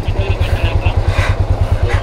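Motorcycle with an aftermarket changed silencer exhaust idling close by, a deep rhythmic thumping pulse repeating evenly and loudly, with faint voices in the background.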